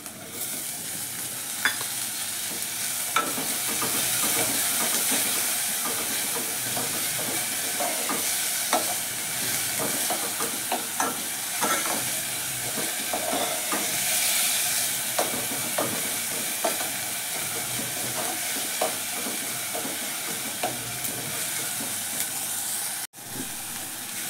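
Tomatoes fry in a pan with spice paste, giving a steady close sizzle and hiss with occasional stirring scrapes throughout, no talking.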